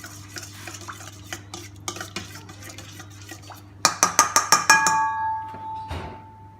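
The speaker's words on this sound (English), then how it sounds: "we're going to stir that through" Chili being stirred into a salmon marinade, with scraping and tapping of a utensil in a bowl, then a quick run of sharp ringing clinks against the rim that fade out, all close by with a low background hum.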